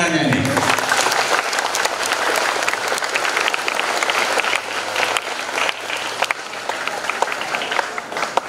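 Sustained applause from a large crowd at a school anniversary celebration fills the whole stretch, steady and dense clapping with some cheering mixed in.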